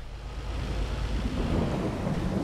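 Rain falls steadily in Farming Simulator 22 while deep thunder rolls underneath and swells slightly toward the end, with no talking.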